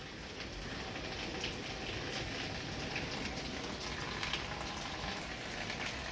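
Steady rain falls outdoors as a faint, even hiss with scattered patter and no pauses.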